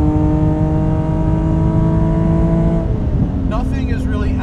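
A modified BMW Z3M Coupe with an S54 engine drones loudly through its exhaust at steady revs, then the pitch drops as it eases off; voices talk faintly underneath near the end.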